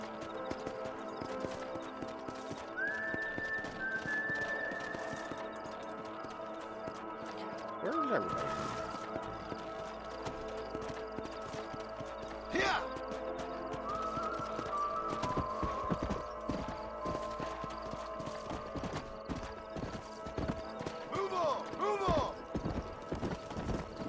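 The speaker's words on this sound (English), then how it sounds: "The horses are easier to herd." Hooves clip-clop and gallop from a herd of horses in the Western video game Red Dead Redemption, with whinnies and neighs rising above the steady trotting rhythm while a person talks over it.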